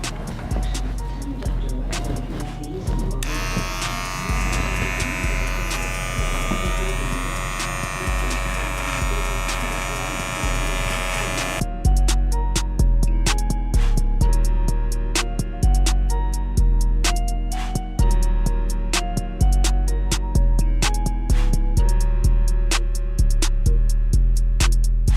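An electric hair clipper runs steadily close by while a bald fade is cut, giving a continuous motorized buzz broken by repeated short clicks and strokes as the blade works over the head, with no talk heard.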